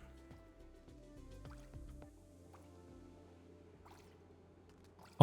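Water leaks in Oxygen Not Included: a quiet string of soft drips and liquid plops, irregular and gentle, over a faint low background hum.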